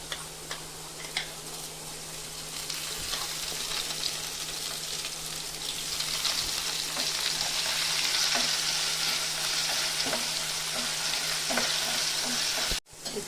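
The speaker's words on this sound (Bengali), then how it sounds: "এটাও আমি আলুটার সাথে ভেজে নেব।" Soaked Gobindobhog rice and potato frying together in oil in a pan, a constant close sizzle that builds louder midway, with light ticking stirs and scrapes throughout.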